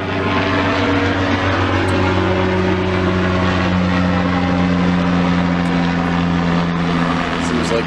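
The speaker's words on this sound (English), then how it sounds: "Seems like every day there's a billion helicopters going over my house." A steady droning rotor and engine hum passes overhead, loud and continuous throughout, with a faint low thrum underneath.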